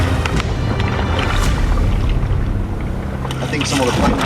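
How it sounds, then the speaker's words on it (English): Heavy storm waves crash repeatedly against a small wooden boat's side at sea, with broadband splashes and rushing noise throughout and occasional sharper impacts. "you can hear the waves. They're not slamming, they're literally smashing themselves into the side of the boat."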